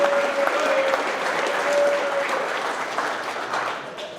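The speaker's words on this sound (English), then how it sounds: "Make some noise for these guys." A large crowd applauds steadily and loudly at a trucking company's monthly staff celebration, with scattered cheers and whistles over the clapping, fading slightly toward the end.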